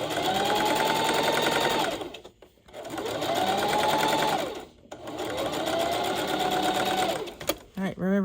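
A sewing machine stitches plaid fabric in three long, even runs of rapid whirring, each separated by a short pause, close and loud, with a brief bit of talk at the end.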